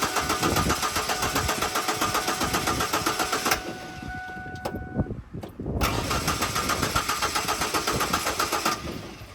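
A Ford Ranger engine cranks repeatedly with a rapid, rhythmic churning but never catches. The cranking stops briefly midway with a couple of clicks, then resumes loud and close until the end.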